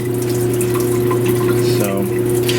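Water drains from the household supply lines out through the lowest faucet in the house, a steady continuous rushing flow with a low humming tone underneath that shifts partway through.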